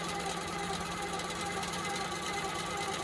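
A longarm quilting machine stitches loops in one steady, dense whir that stays even and close throughout, with no pauses.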